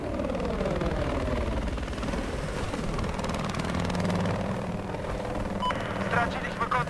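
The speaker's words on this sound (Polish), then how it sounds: "widzicie, są śmigłowce" Helicopters in the video game Battlefield 4 thrum with continuous rotor and engine noise, a loud steady low drone, with someone talking over it and brief game sound effects near the end.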